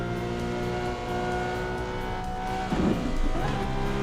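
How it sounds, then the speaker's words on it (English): A Lamborghini Aventador driving among BMWs, a steady engine drone with a brief tire squeal breaking through near the end, moderately loud and close. "I'm driving a Lamborghini Aventador with a Lamborghini Revuelto steering wheel here."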